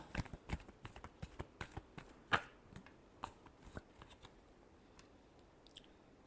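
Tarot cards are shuffled by hand in a quiet room, making a soft, rapid series of papery taps and flicks that slows and thins out toward the end.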